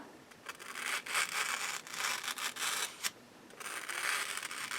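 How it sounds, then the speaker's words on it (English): A Spyderco Para 3 folding knife slices through about four stacked sheets of newspaper, giving a close, dry rasping scrape in several uneven strokes with brief pauses between them. "And I'm cutting through like 4 pages of newspaper right now"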